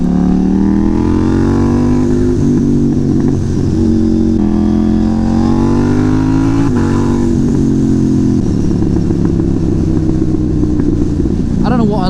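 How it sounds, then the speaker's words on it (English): A KTM Duke 790 motorcycle engine pulls hard and loud, its pitch climbing through gears with brief quick-shifter breaks and crackles as the throttle rolls off, steady and close throughout. "I don't know what I like better, the acceleration sound, the quick shifter sound, or roll off the throttle and backfire sounds."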